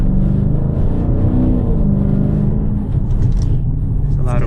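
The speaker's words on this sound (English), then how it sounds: "give it one last little shot of acceleration up to the pier" A 2016 Dodge Challenger Scat Pack accelerates, its engine a loud, deep, steady rumble heard from inside the car while people talk.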